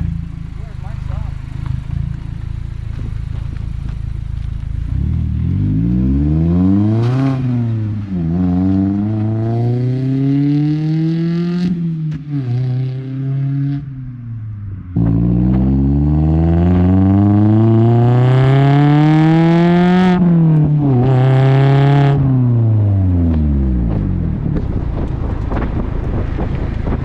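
A Mazda ND Miata fitted with an ISR exhaust revs and accelerates through gears, engine pitch sweeping up and down in two loud pulls, up close with wind buffeting the microphone.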